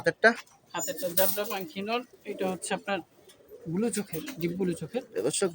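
Male silver and jabra breed pigeons coo in repeated low, throaty phrases close by, with someone talking intermittently among the calls.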